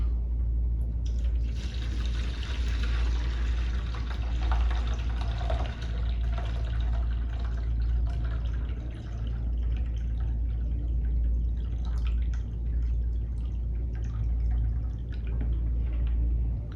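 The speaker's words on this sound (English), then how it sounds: "Okay, so I've already have some water in here. Let's pour it out." Water pours out of the tank of a Kunphy ultrasonic jewelry cleaner in a steady splashing, trickling stream that runs loud and close for about fifteen seconds.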